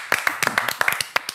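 A TV studio audience claps in a short, brisk burst of applause, with quick overlapping hand claps.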